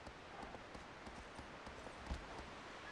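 Horse hooves galloping in the video game Shadow of the Colossus, a rapid, steady clip-clop rhythm with soft thuds under a constant hiss of ambient noise, fairly quiet throughout.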